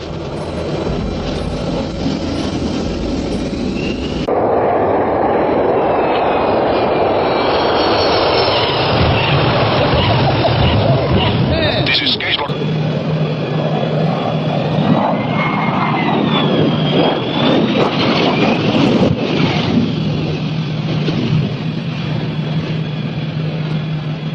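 A single-engine, four-seat Beechcraft Bonanza propeller engine roars steadily and loudly, rising in pitch as the aircraft takes off, with wind rush over the sustained drone.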